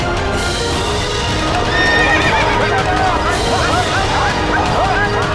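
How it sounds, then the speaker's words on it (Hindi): An agitated horse neighs and whinnies repeatedly, loud and close, with hooves clattering beneath and voices talking over the commotion. "हुकुम, अश्व बिफर गया है।"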